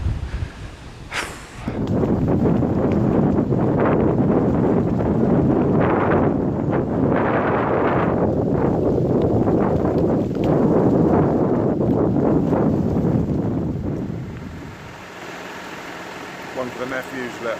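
Strong coastal wind buffets the microphone outdoors, a loud continuous roaring gust lasting over ten seconds before easing, with brief talk at the start.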